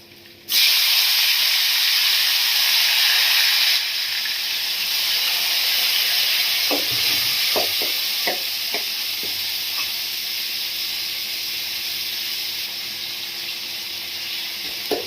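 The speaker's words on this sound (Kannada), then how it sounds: "ಈಗ ಟೊಮೆಟೊ ಹಾಕ್ತಾ ಇದ್ದೀನಿ" Tomato hits a hot pan with red chilli, garlic and curry leaves, bursting into a loud steady sizzle and hiss, with a few soft stirring clinks partway through, close up and without talk.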